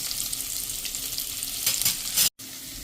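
Okra cooks in a pan over a gas flame turned down low, giving a steady, moderate sizzle with faint stirring and a brief cut near the end.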